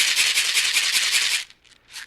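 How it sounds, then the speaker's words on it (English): Shekere, a gourd shaker strung with beads, rattles in a dense, steady shimmer for over a second, then breaks into a couple of short, quieter shakes, played alone and close. "I'm playing the shekere, which is another type of gourd"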